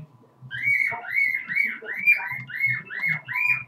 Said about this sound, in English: Oh my gosh, bird, I'm gonna stab you.